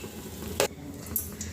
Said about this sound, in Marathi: मंद आचेवर तळून घ्यायचे डोनट